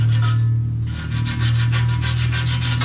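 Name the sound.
sanding an AC fan motor shaft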